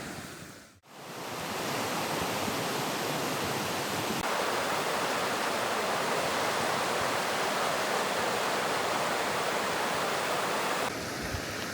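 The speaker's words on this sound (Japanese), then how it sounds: "滝があります。" A waterfall in a snowy mountain hot spring area pours as a broad, steady roar of rushing water that fills the whole stretch, after a brief dip near the start.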